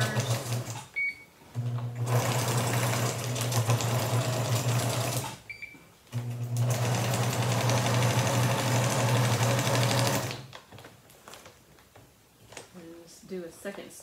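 Sewing machine running a seam on a feed sack shopping bag, two long steady bursts of loud mechanical whirring with a brief pause between, followed by quieter handling noises.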